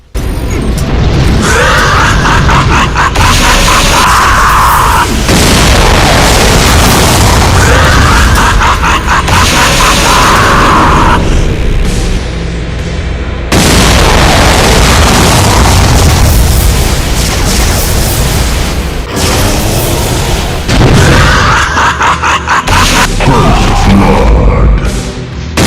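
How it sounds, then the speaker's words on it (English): Heavy booming explosions from magenta super devastator projectiles in a Doom mod, loud blasts crashing one after another in dense, sustained bursts with brief gaps, no talking. "fires projectiles all over the place, and has the most deadly beam during flight before it does the most dangerous explosion on"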